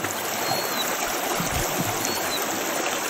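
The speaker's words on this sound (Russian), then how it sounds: "Ручей Кряхтях." Kryakhtyakh creek in the Suntar-Khayata Range rushes steadily in a continuous, close, full wash of flowing water with no voices.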